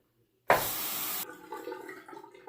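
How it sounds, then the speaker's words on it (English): A tap is suddenly opened and water gushes loudly to rinse a shaving razor for under a second, then settles into gentler splashing and dripping. "excuse me while I rinse the razor."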